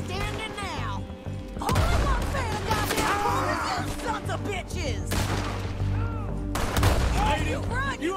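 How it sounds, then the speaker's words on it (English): Gunfire in Red Dead Redemption 2 in a chaotic shootout, a dense run of sharp overlapping shots with loud cracks and crashes, heard under ongoing voices talking. "I'm shooting."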